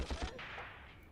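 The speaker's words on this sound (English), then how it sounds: "that's a grenade just popped off" A grenade bursts in the WWII tactics game Graviteam Tactics: Mius Front, a couple of quick low thumps followed by a rushing, fading rumble of debris and noise.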